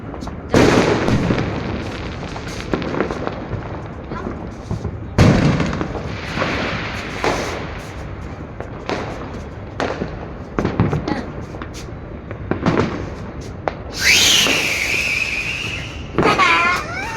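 Fireworks and firecrackers burst in repeated loud sharp bangs at a New Year celebration, spaced irregularly, with one whistling rocket rising near the end; excited people talk and shout between the explosions.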